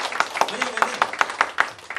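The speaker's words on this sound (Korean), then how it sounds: "우리 박수 한번 칠까요?" Clapping at a company presentation comes as evenly spaced, rhythmic claps, about five per second, with a voice speaking briefly over them.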